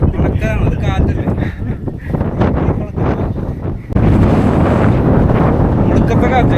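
Strong wind gusts roar across the rocky summit of the Madhugiri monolith, a huge granite hill, battering the microphone with a loud, steady buffeting that swells after a few seconds, while voices speak beneath the roar.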